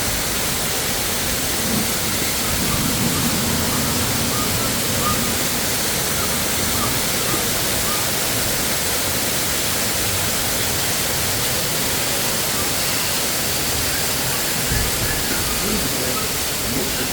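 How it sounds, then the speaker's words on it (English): A constant, broad rushing roar of falling water from an indoor waterfall at Epcot's Living with the Land ride fills the whole stretch, steady and hissing without pauses. Faint speech may sit beneath it. "There's a waterfall over there."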